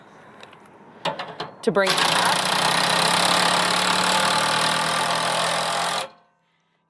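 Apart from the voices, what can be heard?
socket tool raising stabilizer jack on Aliner camper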